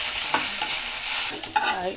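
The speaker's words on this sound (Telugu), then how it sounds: "ఆయిల్ వేసుకొని కరివేపాకు వేస్తున్నాం ఇలా కరివేపాకు వేయించుకోవాలి" Curry leaves fry in hot oil for peanut chutney, a loud close sizzle with spluttering crackles and a spoon stirring and scraping the pan, no talking.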